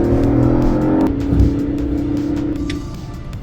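A BMW E46 pulls hard on the highway, its engine droning loudly up through the gears with a shift break partway, and steady road noise underneath.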